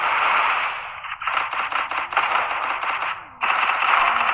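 A UMP submachine gun firing in a mobile battle-royale shooter, with rapid automatic bursts of sharp crackling shots, loud and close, separated by a brief pause.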